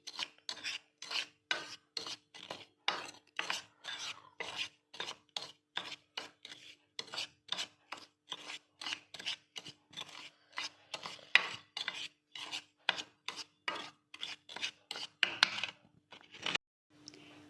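Breadcrumbs being mixed into flour and cornflour in a bowl for homemade chicken nuggets. Steady, quick rasping strokes repeat for the whole stretch, close up and fairly soft.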